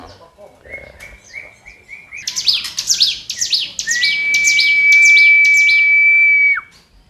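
Bright, repeated chirping bird song from a caged songbird, quick trills in bursts followed by a long sustained high whistle, fairly close and clear.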